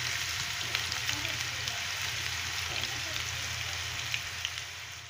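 Onions sizzle and fry in oil in a pan for a Damietta-style Ramadan breakfast, a steady hissing crackle with faint stirring, continuous and close.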